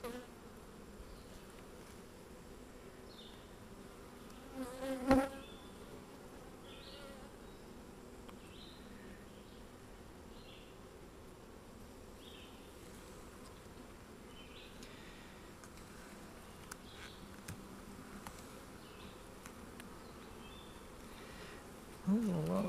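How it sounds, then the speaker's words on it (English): A dense, steady hum of many honeybees buzzing around a hive during an inspection, soft and continuous, with a few brief louder handling bumps. "There's a lot of bees, I would think."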